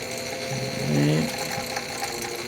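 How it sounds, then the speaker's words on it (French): A Bernina Record 7 sewing machine under repair winds its bobbin, giving a soft mechanical whir with a brief ratcheting, rising hum in the middle, close and fairly quiet. "la bobine va se remplir, puis ça va dégager le mécanisme"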